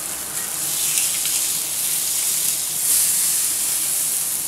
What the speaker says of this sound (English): That way I can kind of sear off the sides.